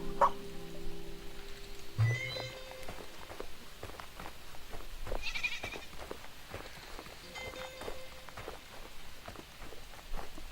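Sheep bleat several times in a quiet outdoor scene from the video game Superbrothers: Sword & Sworcery EP, with soft footsteps and small clicks scattered between the calls.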